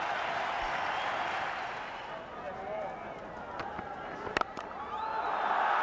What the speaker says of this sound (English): The crowd erupts. They're all on the gallery to applaud his fine effort.